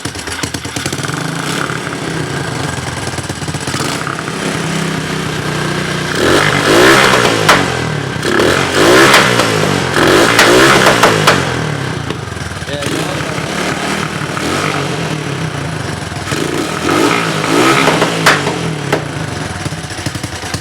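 A cold three-wheeler's small engine revs and sputters loudly up close, rising and falling in bursts over a rough idle, with a voice talking at times.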